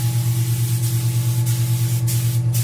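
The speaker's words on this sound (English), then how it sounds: "I don't want to blast her with any spray, so we're careful about that here." Airbrush spray tan gun spraying in a steady continuous hiss with a low motor hum beneath, close and constant throughout, with no talking.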